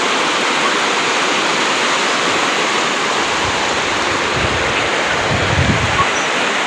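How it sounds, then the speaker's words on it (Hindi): A fast-flowing river rushes beneath a bridge, a loud, dense, continuous roar of churning water with a steady hiss and no pauses, close and dominating with no voices. "पीछे नीचे से नदी का आवाज़ आ रहा है बहुत तेज, बहता पानी"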